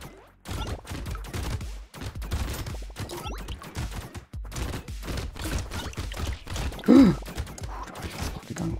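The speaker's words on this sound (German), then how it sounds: "eine Uzi, die halt so schon übelst losrattert" Rapid bursts of automatic Uzi gunfire in the video game Brotato rattle in quick, dense volleys, loud and close, with brief gaps between strings of shots.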